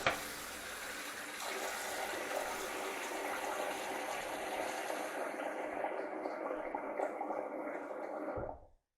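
Hot water pours steadily into the tube of a suction machine, a continuous hissing gush at close range that holds evenly for about eight seconds before stopping abruptly.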